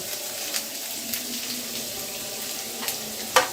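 Onion and garlic cloves fry in a pan for a dry loitta fish roast, giving a steady soft sizzle with a few light stirring scrapes and a brief sharp clink near the end.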